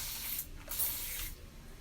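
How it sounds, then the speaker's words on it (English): Soft hissing spritzes from a spray bottle, several quick pumps in a row, close and fairly quiet. "I'm going to need to spray my root area"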